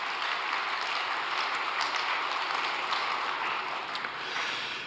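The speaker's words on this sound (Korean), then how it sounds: "격려와 또 감사의 박수를 한번 부탁드리겠습니다" An audience at a retreat gathering applauds in encouragement and thanks, a steady, even wash of clapping at moderate distance that holds without pause.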